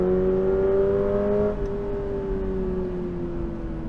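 A 2022 Toyota GR86 engine holds a steady, droning note in third gear through a set of turns. Its pitch sags slightly as the car settles into the bends, heard from inside the car and clearly audible.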